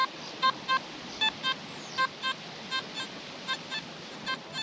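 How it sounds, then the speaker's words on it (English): Minelab Simplex metal detector fitted with a Detech Ultimate 13 coil, sweeping on a short beach: a series of repeated mid-pitched electronic beeps, slightly jumpy and irregular, loud and close over steady surf and wind noise, with no talking. "Now, this signal is ringing up much more mid-toned."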